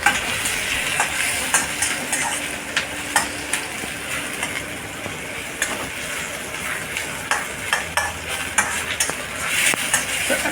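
Chopped onion sizzles in hot oil in a pan for Hakka noodles, with a steady frying hiss and repeated close scrapes and taps of a spatula as it is stirred.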